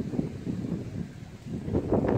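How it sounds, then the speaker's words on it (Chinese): Strong wind buffets the microphone beside a lake resort, a steady low roar with gusts that swell louder toward the end, with no voices over it. "我见呢度都大风啊"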